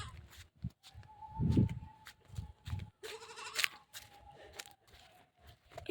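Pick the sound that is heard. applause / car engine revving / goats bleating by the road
goats bleating by the road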